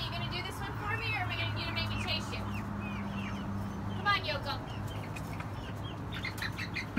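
Farm chickens clucking and chirping, with a brief burst of wing flapping, steady flock chatter under a low hum and people talking nearby.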